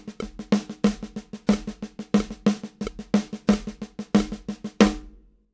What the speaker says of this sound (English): keep those same accents, but use paradiddles, it would sound like this